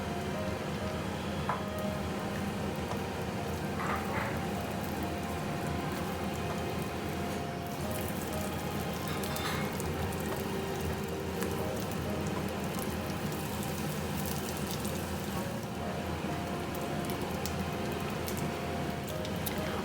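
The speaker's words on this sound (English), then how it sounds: "Add in the Chinese sausage and saute until fragrant." Chinese sausage sizzles in hot oil in a wok, a steady, rain-like crackle that runs unbroken for about twenty seconds at moderate loudness with no talking.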